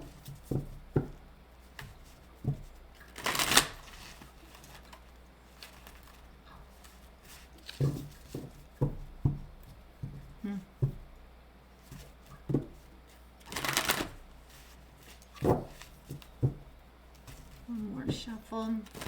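A tarot deck being shuffled by hand gives soft, irregular card riffles and taps, with a few louder bursts of rapid flutter. A voice talks quietly in between.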